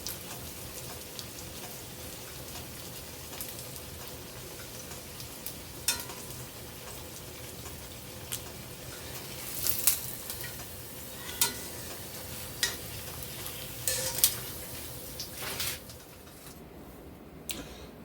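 Apple fritters fry in hot oil with a constant soft crackle and bubbling patter, broken by sharper pops and spits now and then, heard close and fairly quiet with no talking.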